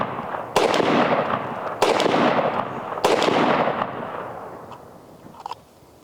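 AR-15 with a Bear Creek 7.62x39 upper firing Bulgarian ammunition outdoors, three loud evenly spaced gunshots about a second apart, each with a long echoing tail that fades away.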